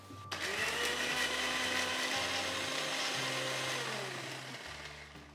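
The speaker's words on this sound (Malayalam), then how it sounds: "ഇതെല്ലാം കൂടെ കുറച്ച് തേങ്ങാപ്പാലോ അല്ലെങ്കിൽ വെള്ളമോ ഒഴിച്ച് ഒന്ന് അരച്ചെടുക്കാം" A kitchen mixer grinds spice powders with coconut milk or water for a Kerala drumstick mappas, starting abruptly with a loud, steady whirring drone that runs for several seconds before slowly easing off.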